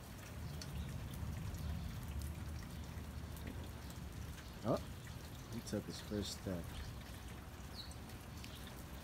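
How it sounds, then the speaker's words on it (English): Steady heavy Florida rain patters softly outdoors throughout, with a voice speaking briefly partway through. "There's rain everywhere."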